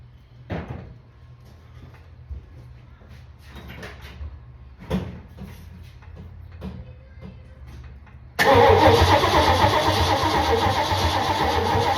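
An engine is cranked over on starting fluid with scattered clanks and knocks first, then the starter spins it into a loud, steady, rhythmic whirring that carries on to the end, close by.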